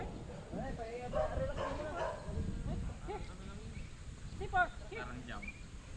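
Several dogs bark and whimper amid steady outdoor background noise, partly under people talking.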